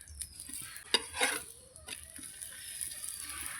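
Methi paratha frying in white oil in a pan over a wood fire: a soft, steady sizzle with a few light utensil clicks and scrapes, no talking.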